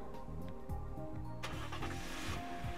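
Car engine cranks and starts in Famicom Detective Club, a short starter whir followed by a rising engine note, quiet and alone with no talk.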